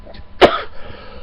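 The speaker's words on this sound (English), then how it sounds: "sorry about the coughing." A single sharp cough bursts out near the mic, short and loud, against a quiet indoor background with no speech.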